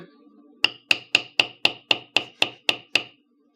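A hammer strikes a metal beveling tool on leather in ten sharp, evenly spaced blows, each one crisp and close with a brief ring before the next. Steady rhythm, no talking.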